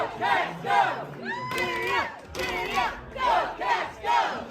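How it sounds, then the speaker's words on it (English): Crowd at a Montana State alumni watch party in a hotel bar during the FCS championship football game, erupting in loud cheers and shouts in repeated surging bursts close by. "And a good crowd is what they got"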